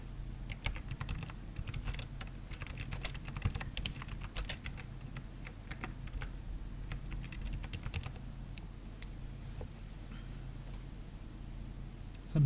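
Quiet, rapid typing on a computer keyboard fills the clip, with continuous light key clicks and occasional louder keystrokes over a low room hum.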